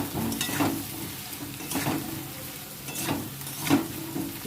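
Ginger-garlic masala sautés in oil, a steady close sizzle broken by four rhythmic scraping strokes of stirring at roughly one-second intervals, no speech.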